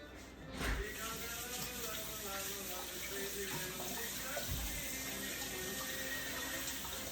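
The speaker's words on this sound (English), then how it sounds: "So let me wash my hands." Hands are washed under a running kitchen tap during home baking, a close, continuous splash of water that fills the whole stretch, with faint voice underneath.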